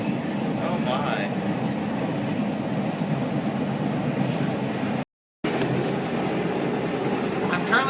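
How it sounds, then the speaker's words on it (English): Interior ride on a Chicago metro train travelling on the rails: a continuous rumbling roar with rhythmic clatter and occasional high squeals from the wheels, loud and steady, with one brief dropout of silence. "I'm currently on the metro"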